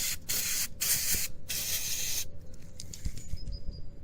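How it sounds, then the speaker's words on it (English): Mass airflow sensor cleaner sprays onto a Corvette MAF sensor in three close, loud aerosol hisses separated by brief gaps, then quieter ticks and faint clicks follow. "use a mass airflow sensor cleaner and just spray them"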